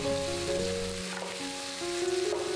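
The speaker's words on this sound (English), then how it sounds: "Now really stir this around to make sure everything's cooked with all the flavors on the pan." Sliced mushrooms and chopped cabbage frying in a pan as they're stirred around, giving a continuous close sizzle with sustained tones running underneath.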